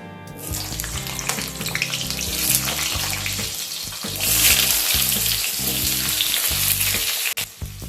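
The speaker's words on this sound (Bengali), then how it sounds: "সামান্য একটু সময় নিয়ে আলুটাকে ভেজে নেব।" Cut potatoes frying in hot mustard oil with black cumin in a wok, a loud steady sizzle with occasional stirring scrapes, no voices.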